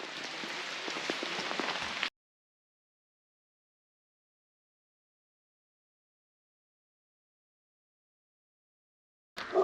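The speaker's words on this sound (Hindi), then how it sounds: "आप देख ही सकते हैं कितनी जोरों की बारिश हो रही है" Heavy rain on the Rudranath trek in Uttarakhand, a dense hiss of downpour for about two seconds before the sound cuts to silence, with a brief burst returning at the very end.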